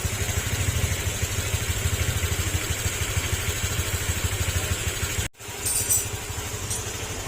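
A Honda Click 150 scooter engine idles while warming up, a steady low putter that cuts out abruptly near the end, followed by faint clatter and a brief high chirp.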